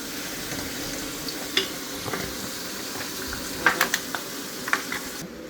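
Minced beef frying in a large pan of bolognese cooked in bulk, a steady close sizzle with scattered clicks and scrapes of a utensil stirring.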